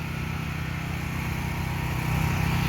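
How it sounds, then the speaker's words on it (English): A pressure washer cleans a wall at an outdoor shrine on Olvera Street, its steady motor drone loud and continuous throughout with a low rumble and no pauses. "Looks to be power washing the wall."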